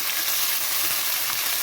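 Yardlong beans tossed into a pan where prawns are frying give a steady, close hissing sizzle that runs evenly through the whole short stretch with no talk.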